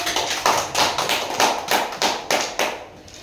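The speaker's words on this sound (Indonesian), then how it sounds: "boleh kita tepuk tangan untuk kita semua" A group of people at a school planning meeting claps hands together in a steady rhythmic pattern, about eight sharp bursts in three seconds, fairly close and even in loudness.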